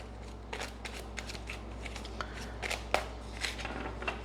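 Oracle card deck being shuffled, a rapid series of soft riffling card flicks and slaps repeating in short bursts, close and quiet with no talking.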